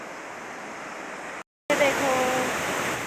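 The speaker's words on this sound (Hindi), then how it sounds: "ऐसी नदी है हमारे वहाँ, बड़ी सी नदी" A big river rushes through a bamboo forest, a steady broadband roar that cuts out for a moment and returns slightly louder, with a brief spoken phrase over it.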